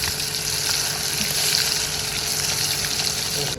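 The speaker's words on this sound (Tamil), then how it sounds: "காடை ரொம்ப ஃப்ரெஷ்ஷாக சூப்பராக ஃப்ரை ஆகிட்டுருக்கு." Marinated quail frying in hot oil at an outdoor garden cooking spot makes a loud, continuous sizzle and bubbling hiss without pause.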